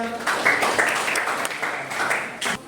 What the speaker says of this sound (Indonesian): Tepuk tangan untuk Kak Dina